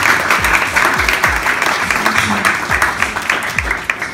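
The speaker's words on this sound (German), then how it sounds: "einen großen Applaus für Ihren Junge." Sustained audience applause fills a school poetry slam evening, a dense, steady wash of many hands clapping with a few distinct claps standing out, with no gaps or pauses throughout.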